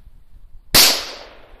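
A single loud gunshot rings out close by in the woods, a sharp crack fired at a target with a short decaying tail, following a quiet lead-in.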